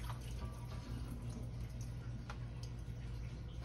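Chopped chow chow vegetables with celery seeds drain in a colander, a soft steady trickle and drip of liquid, quiet and close, with no talk.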